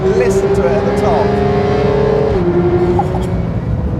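A Porsche 911 GT3 evo with PDK gearbox revs hard toward its 9,000 rpm redline, a loud, steady high-pitched engine howl rising through the revs, with a brief shift-like dip partway, under faint voice.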